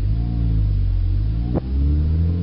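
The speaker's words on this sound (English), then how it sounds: "what you want to hear is an instant change in the transmission" A manual-transmission car's engine rumbles steadily, dips briefly in a quick gear change, then resumes the same loud, close drone.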